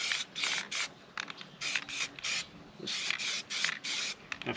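Spray gun lightly fogging paint around a hot rod shop truck over baked-on primer, coming in short hissing bursts separated by brief pauses, close and fairly quiet.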